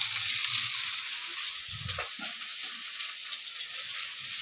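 Chopped onion, crushed garlic and a little tomato frying in hot oil, a steady bright sizzle with brief scraping stirs from a spoon, close and continuous.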